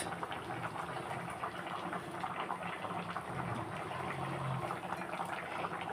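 Fish curry simmering in a pot gives a steady, soft bubbling with faint liquid burbles throughout, constant and unbroken, no talk.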